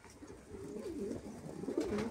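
Van high-flyer pigeons cooing softly nearby, a low warbling coo that swells and rolls twice over a couple of seconds against quiet background.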